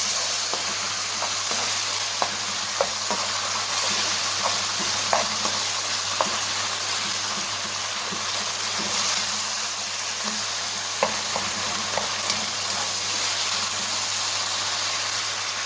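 Whole black pepper, cumin seeds and fenugreek seeds frying in hot oil for an eggplant dish, a steady loud sizzle with a broad hiss, broken by light scraping taps of a spoon stirring, close and without talk.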